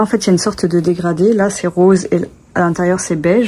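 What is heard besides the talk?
No everyday noises stand out.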